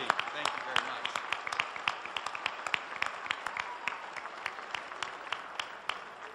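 An audience at the Adelante 2008 event applauds a team, with distinct individual claps scattered in a steady patter, fairly quiet and distant, continuing evenly for several seconds.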